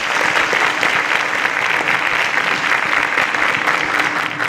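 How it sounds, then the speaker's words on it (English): A studio audience on a TV show applauds the five participants with dense, continuous clapping at steady loudness, with no pauses. "A round of applause for our 5 participants."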